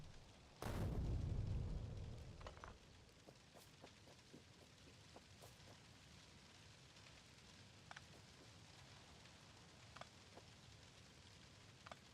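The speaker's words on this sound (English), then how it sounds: "Boom, boom, boom, boom, boom, boom, boom, boom, boom, boom, boom, boom, boom. Explosion, explosion." Explosion in the Factorio video game: one deep, loud boom near the start that rumbles and fades over about two seconds, followed by quieter scattered clicks and pops.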